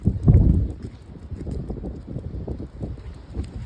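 Strong gusting wind buffets a microphone outdoors, a continuous low, rumbling roar with uneven surges that peaks early and keeps churning to the end.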